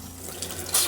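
Water runs from the hot side of an RV camper's kitchen sink faucet during winterizing: a brief, soft hiss of flowing water that swells louder near the end.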